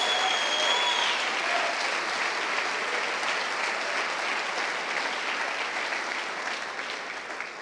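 A church congregation claps together, steady dense applause that starts loud and fades slightly toward the end. It rolls on continuously with no voices over it.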